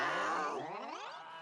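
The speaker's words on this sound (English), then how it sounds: "Oh well, it'll have to be a goose." In the fantasy film Krull, a goose lets out one drawn-out, nasal, honking squawk that slides downward, loud and up close.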